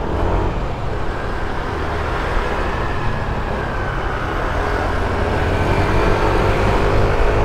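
A Yamaha Nmax scooter engine running at low RPM, with the vibration noted at low revs, gives a steady, loud, close rumble that holds without a break for the whole stretch.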